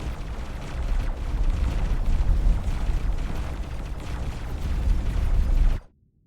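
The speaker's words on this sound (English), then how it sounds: "See how many missiles are going down range." Dumbfire missiles from a space fleet exploding in the game X4: Foundations, a dense, continuous roar of overlapping blasts and rumbling booms that holds loud for nearly six seconds before cutting off abruptly.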